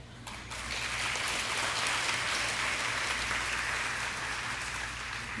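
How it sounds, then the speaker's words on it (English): A room full of people claps for first- and second-grade students receiving elementary school awards, the applause swelling quickly and holding at a steady, dense level before easing slightly at the end. "Let's give them one more round of applause."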